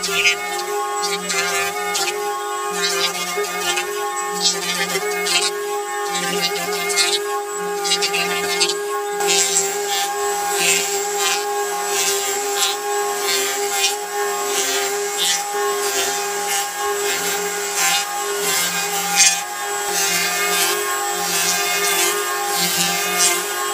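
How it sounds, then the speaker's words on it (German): An electric hand planer shaving a wooden crossbeam for a balcony with a fine cut, a continuous loud whining motor drone with steady high-pitched cutting hiss and slight rhythmic fluctuations over more than twenty seconds. "Ich werde jetzt nochmal mit dem Hobel und einer deutlich feineren Spanabnahme in die andere Diagonalrichtung über"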